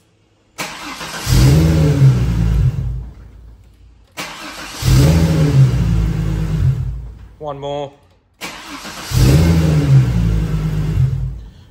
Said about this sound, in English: We're just going to give it a few starts and just make sure the starter motor goes every time.